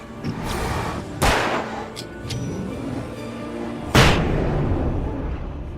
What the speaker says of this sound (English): Flashbang time